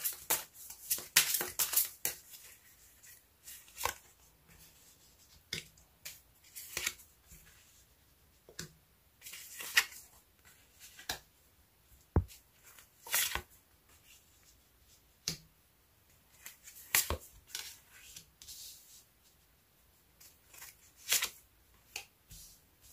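Tarot cards are shuffled and drawn by hand for a reading. A long run of close, crisp riffling and snapping card sounds comes in uneven bursts with short pauses between them, with no voices over it.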